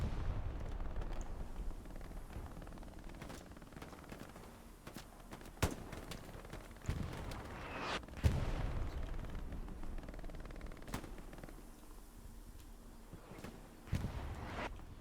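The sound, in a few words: bombing run explosions in a video game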